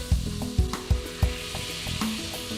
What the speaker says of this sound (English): And we want to melt the butter completely.